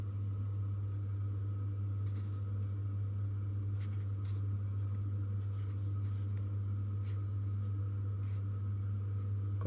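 A pen scratches across a surface in short, separate strokes, faint over a steady low electrical hum.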